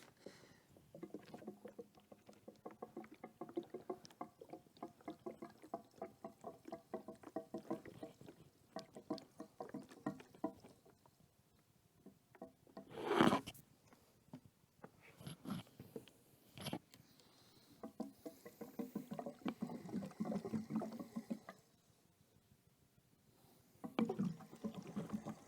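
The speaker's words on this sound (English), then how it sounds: "once I've tried to fill it up with some fuel." Fuel pours into the tank of a Ford Focus being rebuilt with a 1UZ V8, a steady splashing gurgle with patter that rises and falls over about 25 seconds, with brief louder bursts and no talking.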